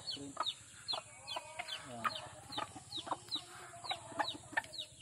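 Chickens, including a mother hen, clucking in a backyard coop, with repeated short clucks and calls close by, several birds overlapping in an irregular rhythm.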